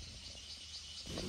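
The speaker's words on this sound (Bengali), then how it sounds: "ঝিঝির ডাক" A continuous high cricket drone in a rain-soaked forest fills the background evenly and faintly, with no voices.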